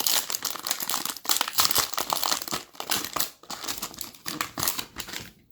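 Panini Select basketball trading card packs being torn open, loud close crinkling and ripping of foil wrappers in rapid repeated bursts with brief pauses, no talking.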